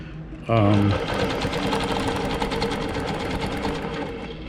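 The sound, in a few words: longarm quilting machine stitching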